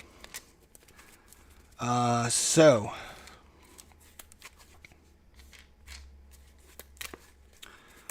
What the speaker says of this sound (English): all right, I'm done shuffling, I believe.